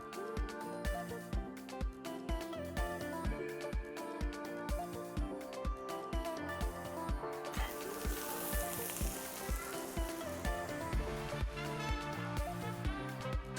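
Mushrooms frying in olive oil in a pan, a steady dense sizzle running throughout with busy crackling and some clattering over it, close and fairly loud.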